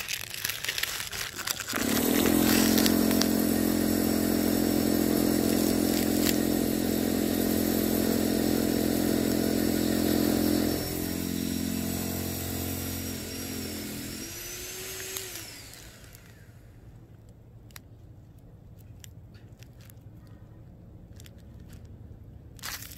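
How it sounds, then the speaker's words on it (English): A hammer drill runs loud and steady for several seconds nearby, its pitch shifting partway before it winds down and stops, leaving a quieter background of faint ticks at a termite site. "I guess y'all can hear Russell going to town with that hammer drill."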